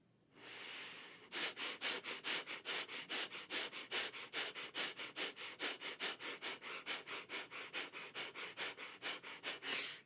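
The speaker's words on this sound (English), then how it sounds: "We'll begin with 3 sets of 20 fire breath in and out the nose." Rapid breath-of-fire breathing through the nose, a long run of sharp, evenly spaced sniffing exhales at about three per second, close and clear, following one longer opening inhale.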